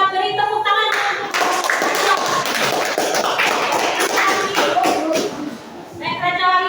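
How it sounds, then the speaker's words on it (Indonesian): Classroom audience of students clapping for a presenting group, dense and steady applause for several seconds with some voices mixed in, fading toward the end. "kita beri tepuk tangan untuk"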